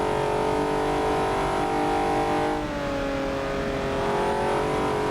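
Small race car engine heard from the onboard hood view during a hill run in a racing event, a loud steady droning note with harmonic bands that dips briefly mid-way before climbing again.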